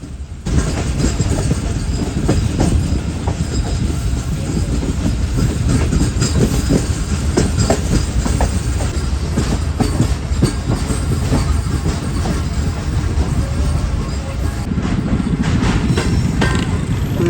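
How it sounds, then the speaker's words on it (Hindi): The Awam Express rolls into Hyderabad Junction station in Pakistan, a loud continuous rumble and clickety-clack of wheels over rail joints, close by and sustained throughout with faint squeals. "फाइनली ट्रेन हमारी अप्रोच बना रही है हैदराबाद जंक्शन रेलवे स्टेशन पर SGM 38225 के साथ।"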